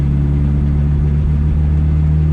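A turbocharged boat engine swapped into a six-speed S10 pickup truck drones loudly and steadily from inside the cab, a deep, constant engine hum holding under acceleration.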